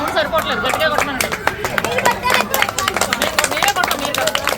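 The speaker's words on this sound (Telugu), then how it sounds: "క్లాప్స్ కొట్టండి అందరూ" A gathering claps along to a devotional song during Vinayaka Chavithi festivities, producing a fast, even beat of group hand claps mixed with singing and crowd voices.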